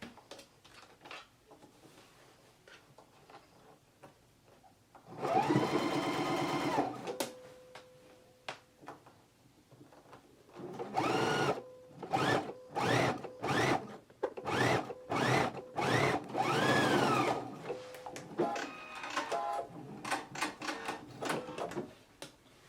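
A sewing machine stitches a seam right beside invisible zipper teeth on a pants pattern, running in one long burst and then a string of short stop-start runs with brief pauses between.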